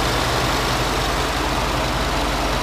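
A 2014 Ford F-150 XLT with the 6.2-liter engine idles steadily, a smooth, continuous low rumble with an even throb, close and constant throughout with no talking.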